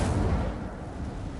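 Incendio fire spell cast in the Hogwarts Legacy video game, a loud continuous roaring, rumbling burst of flame that fills the whole moment with dense low crackle, no talk over it.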